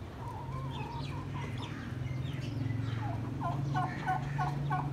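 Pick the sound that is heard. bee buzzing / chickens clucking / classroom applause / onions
chickens clucking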